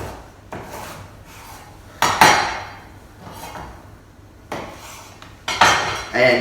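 A knife slicing down the centre of a parsnip on a cutting board, a few sharp knocks and scraping cuts at irregular intervals, close and fairly quiet, with no voices.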